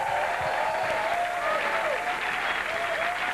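A comedy club audience applauds the comedians at the end of the show, steady dense clapping with a faint whistle and crowd noise underneath.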